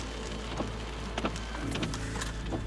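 Steady rain falling outdoors at a wetland bird migration site, a dense continuous hiss with scattered drops and patters, close and without talk.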